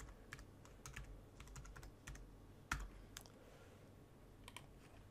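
Typing on a computer keyboard during template setup in drawing software, a quiet irregular run of light key clicks with one firmer keystroke midway, faint and close.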